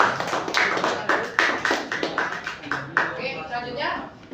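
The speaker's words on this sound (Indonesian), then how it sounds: "tepuk tangan buat Dimas" Applause for a student in a classroom, a few people clapping in a brisk uneven patter, close and moderately loud, with a voice speaking over part of it.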